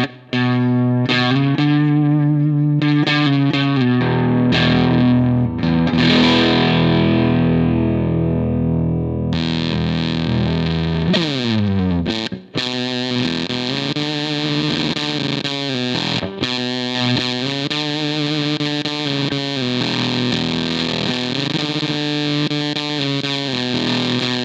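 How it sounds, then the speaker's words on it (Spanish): Electric guitar played through a Thermion Stone Age fuzz pedal into a Vox AC15 amp, heavily saturated and woolly with poorly defined notes, sustained chords and riffs alone at loud, steady level, with a brief dropout near the middle. "conseguir ese efecto de saturación que en este tipo de fuzz da un sonido muy velcro, muy poquito definido"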